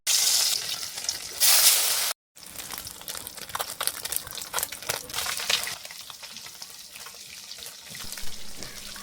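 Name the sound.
small puti fish frying in hot oil in a wok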